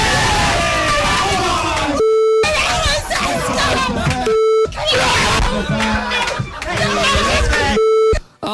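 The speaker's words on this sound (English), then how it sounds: "Here's you cheering for Heskey." A recording plays back of a woman cheering loudly at a football match, an excited crowd roaring around her, cut by repeated sharp electronic beeps between bursts.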